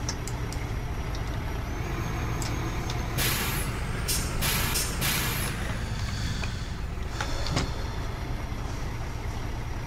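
Fire truck air brakes in the EmergeNYC game hiss in several sharp bursts over a steady low rumble of engines and traffic, with a brief beep in between.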